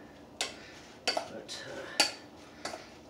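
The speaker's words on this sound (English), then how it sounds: "Put it right in the dressing. Stir that up nicely." Dressing stirred in a bowl in a home kitchen, with a handful of sharp utensil clinks and scrapes against the dish spaced irregularly, close and moderately quiet.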